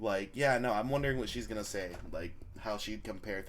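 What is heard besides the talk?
No distinct noise like a dog, phone or traffic.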